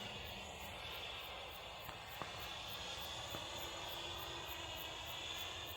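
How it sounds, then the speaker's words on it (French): A drone flies overhead outdoors as a steady, faint mechanical whine and hum that continues without a break behind a light background wash. "Je vais filmer le drone."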